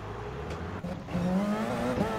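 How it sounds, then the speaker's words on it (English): Race car engine in the GT Sport video game, pulling out of the pits at a sustained, fairly loud drone that rises in pitch partway through. "That sounded like it used the petrol engine to leave the pits there"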